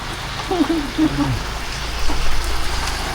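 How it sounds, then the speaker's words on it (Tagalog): Rain during a motorcycle ride from Leyte to Quezon City, a loud continuous hiss of falling rain over low road rumble, with a voice talking briefly early on. "Ito lang makapagpatagal sa biyahe namin yung ulan."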